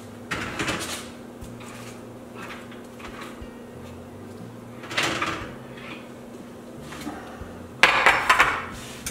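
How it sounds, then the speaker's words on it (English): An oven door opens and closes in a home kitchen as a muffin tin of brown rice and kale savory muffins comes out, with a few soft clunks and metallic clatters over a steady appliance hum and a louder rattle near the end. "Close the oven."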